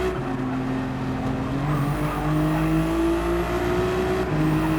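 A Ferrari race car in a racing video game drones through curves, its engine holding a steady high pitch with faint tire squeal and other cars nearby, loud and continuous with no talking.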